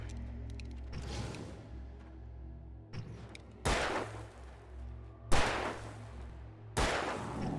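Gunfire in Alan Wake Remastered: several loud, sharp shots with broadband bursts, spaced a second or two apart, along with mechanical clicks and creaks between them. No talking.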